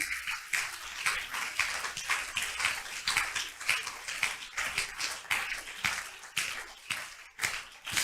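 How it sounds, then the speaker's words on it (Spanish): A church congregation claps steadily and energetically in worship, many hands making dense, rhythmic applause that fills the room for several seconds without a break. "Dele fuerte el aplauso al Señor."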